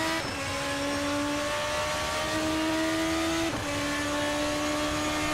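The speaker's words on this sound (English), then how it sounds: "So wonderful noise from that 4-liter Mechachrome engine" A Formula RSS 2 open-wheel race car with a 4-liter Mechachrome-style V8 in a racing video game, screaming at high revs as the engine note climbs, then dropping sharply on two quick upshifts, loud and continuous with no talk.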